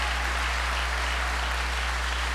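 At the C.R. Walker High class of 2023 graduation ceremony, a large audience keeps up a continuous wash of applause, steady and unbroken, with a low electrical hum underneath.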